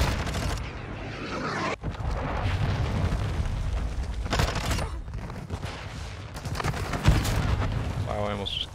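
Cruise missile explosions in Call of Duty: Modern Warfare 2 erupt in a dense, continuous barrage of booms and crackling blasts with a few sharper hits, while a player talks over the chaos.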